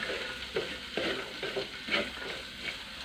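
Fried jackfruit thoran being stirred in a pan, a quiet sizzle broken by several soft scraping strokes of a spoon at an uneven rhythm, with no one talking.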